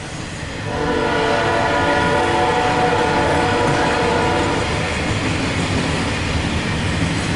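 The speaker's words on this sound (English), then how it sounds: "here comes a rail train" A Norfolk Southern rail train hauling long strings of welded rail passes close by, a loud, sustained rumble and metallic rolling clatter that builds after a quiet start, with no voices.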